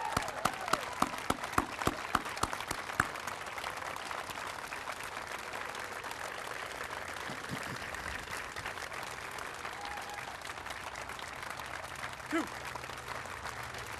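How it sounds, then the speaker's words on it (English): Sustained audience applause fills an outdoor Memorial Day ceremony, opening with a few sharp individual claps before settling into a steady, even wash of clapping from a crowd that continues throughout. "Give him a round of applause, ladies and gentlemen."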